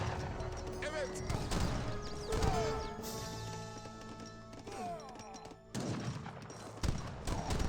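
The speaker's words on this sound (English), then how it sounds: "Obvious guns firing away." Battle gunfire from Age of Empires 3, ragged volleys and crackling shots with clattering impacts spread through the scene while a commentator talks over it continuously.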